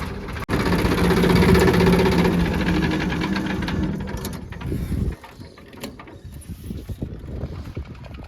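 A loud tractor engine rumbles steadily nearby for several seconds, then drops off sharply, leaving a quieter, uneven mechanical sound.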